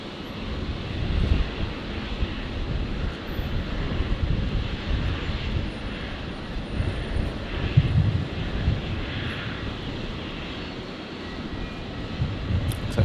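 Aircraft engine noise from a Jetstar Boeing 787 being pushed back at Brisbane International Airport: a steady, broad, continuous rumble at moderate distance that stays fairly even throughout, with slight swells and no talking.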